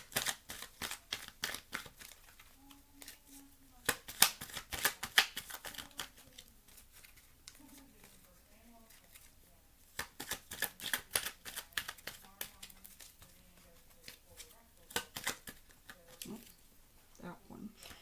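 Tarot cards being shuffled and pulled by hand in a reading: soft, close riffling and flicking patters in irregular bursts, with a voice talking quietly between and over them.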